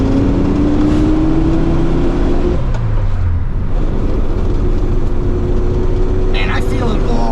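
A 1973 Volkswagen Super Beetle, revived after more than 20 years, drives with its engine droning loud and steady, pitch climbing through a gear, then dropping at a shift and climbing again, with a whine and a rough transmission. Someone talks over it.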